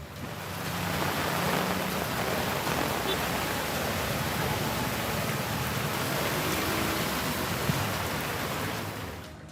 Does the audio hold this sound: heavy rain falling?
yes